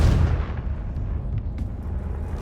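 Confringo fire spell cast in the video game Hogwarts Legacy, a loud booming blast that opens with a heavy low burst and rumbles off over a couple of seconds, alone without speech.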